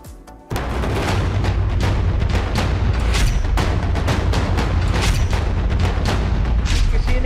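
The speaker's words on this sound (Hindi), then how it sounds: "उसके बाद दनादन गोलियां चलनी शुरू हो गई" Rapid gunfire during a police encounter with criminals, a loud dense barrage of sharp cracks and booms that erupts suddenly and continues without a break, with a voice speaking at times under it.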